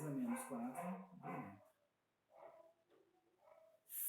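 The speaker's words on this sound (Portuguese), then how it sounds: "estou agora com o cachorro lá latindo na porta de casa" Dog at a house's front door barking at night, a few muffled barks and yelps heard faintly from a distance alongside a voice talking nearby.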